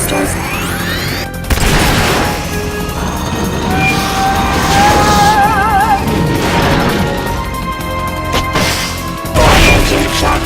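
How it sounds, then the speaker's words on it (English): Boosters fire during a boss battle against Pupa in Metal Gear Solid: Peace Walker HD Remaster, loud roaring bursts and crashes layered with rising electronic whines and warbling tones over a dense game soundscape. "Firing boosters."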